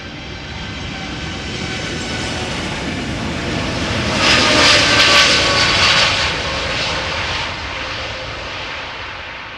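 A jet airliner departs runway 36L at Amsterdam Schiphol, its loud continuous engine roar swelling to a peak midway and then slowly easing as it climbs away.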